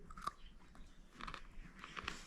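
Dill pickled carrots crunched and chewed up close, a few quiet bites and chews spread across a couple of seconds with no talking.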